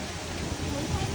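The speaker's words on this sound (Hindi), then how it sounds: "तो इतना ज़्यादा बारिश हो रहा है" Heavy rain pours down in a dense, unbroken wash of hiss. It is loud and fills the whole moment with a steady roar.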